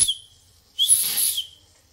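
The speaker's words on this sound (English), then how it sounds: "This little guy here is the whistle." A small steam whistle on a model beam steam engine gives a short, shrill hissing blast of about half a second, with faint steam hiss before and after.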